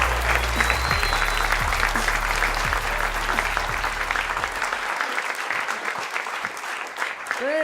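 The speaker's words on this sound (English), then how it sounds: "Give it up for Mr. Jeff Dye, everybody. Let him hear it." Audience at a stand-up comedy show applauds and cheers for a comedian, a dense sustained wave of clapping that slowly thins, with a few whoops and a voice briefly heard near the end.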